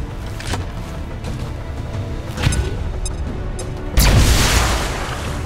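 A frag grenade detonates in XCOM 2 amid tactical combat: a low ambient bed with small impacts builds to a loud, broad blast near the end that rumbles and decays over the final second or so.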